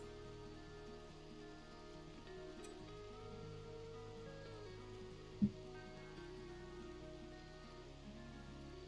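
Soft, steady rainfall in the video game RimWorld hisses evenly throughout at low volume, with a single sharp knock partway through.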